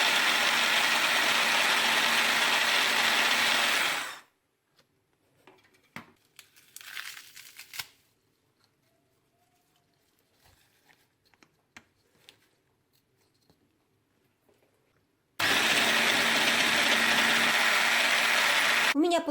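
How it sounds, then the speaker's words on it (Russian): A kitchen blender whirs loudly while pureeing vegetables, fruit and leafy greens such as lettuce, spinach and dill, running hard for a few seconds, stopping through a quiet stretch with faint rustling, then roaring on again. "все эти овощи я перемалываю в блендере до получения однородной"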